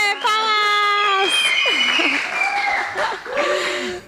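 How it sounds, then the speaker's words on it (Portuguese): Studio audience applause welcoming a guest business partner onto a Brazilian talk show, a short burst of clapping mixed with cheerful voices and a few high exclamations, close and fairly loud throughout. "Palmas!"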